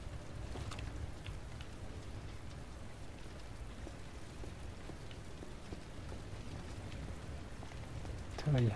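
Steady rain falls in the video game Resident Evil 2, a dense continuous patter of drops with wind underneath that holds at an even level throughout, and a voice talks over it.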